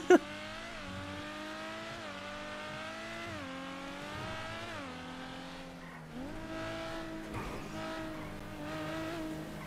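A car engine in GTA V whines and revs continuously with stepped gear-change pitch shifts during a race, with faint background chatter.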